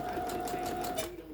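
Sewing machine back stitching the fabric of a sink skirt, a steady close whir running throughout with a faint voice underneath.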